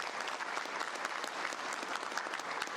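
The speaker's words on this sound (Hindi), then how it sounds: "जोरदार तालियां इनके लिए।" Loud, steady applause from an audience at a leadership masterclass, dense clapping sustained throughout with no voices over it.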